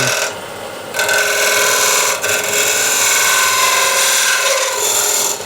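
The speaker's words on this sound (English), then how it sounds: "Small spindle gouge. Just get into this corner here." Small spindle gouge cutting into an Osage orange wood bowl spinning on a lathe, a steady close scraping rasp that drops briefly near the start and then runs on continuously without talk.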